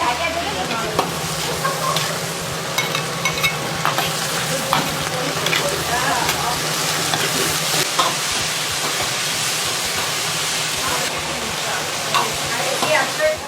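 Several woks stir-frying at top speed in a busy Chinese restaurant kitchen: loud, continuous sizzling with scraping and clanking of utensils, a steady hum beneath and a voice talking over it.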